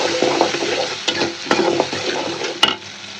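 A spice paste of ground chili, cumin, bay leaf, ginger and garlic fries in oil while being stirred, with close, loud sizzling surges and rhythmic scraping strokes of a spoon against the pan.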